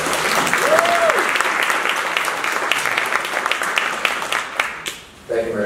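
At a public meeting unveiling a homelessness strategic plan, an audience gives a steady round of applause that fades out, with a brief whistle early on and a voice starting to speak as the clapping ends.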